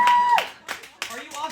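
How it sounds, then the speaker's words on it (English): A comedy show audience gives a few brief, scattered claps over a voice talking on stage. "Clap it up over there,"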